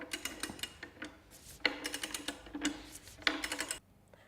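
A torque wrench tightens bolts fixed into concrete, giving repeated rapid ratcheting clicks in three short bursts separated by brief pauses, close and fairly quiet.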